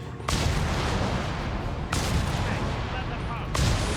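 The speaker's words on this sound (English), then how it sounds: "Another Stuka's barrage." A Stuka dive bomber barrage in Company of Heroes 3 hits as a dense, continuous roar of explosions, with three heavy blasts striking in sequence.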